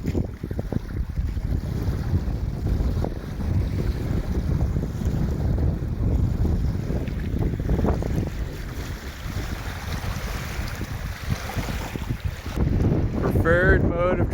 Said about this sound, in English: is it ever windy though